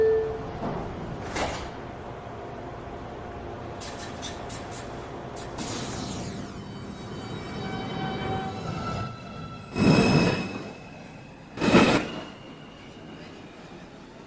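A Manhattan-bound NYC Subway 2 train at a station, a low, steady rumble and hiss of the car with a few sharp, loud bursts of brake or air release near the end, no talk.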